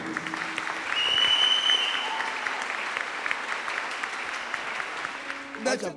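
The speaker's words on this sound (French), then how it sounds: "L'église acclame bien." A church congregation applauds in a steady sustained clapping that swells after the first second and then holds, with a voice speaking over it.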